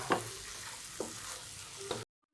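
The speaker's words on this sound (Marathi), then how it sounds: "दही टाकल्यानंतर मनुके आणि काजू आपण टाकून घेऊया ह्याच्यात चांगलं हलवून घेऊया" Curd with raisins and cashews is stirred in a pan for a fresh-turmeric dish, with three distinct scraping strokes over a steady soft sizzle, close and fairly quiet.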